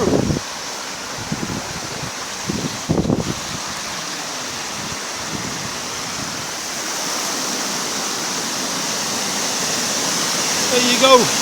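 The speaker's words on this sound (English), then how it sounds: "That's how much water's coming off that bit of canal." Flood water pours off a stretch of canal in a steady, loud rushing roar like a broad outflow, continuous throughout with a few brief low thumps near the start and no clear talking.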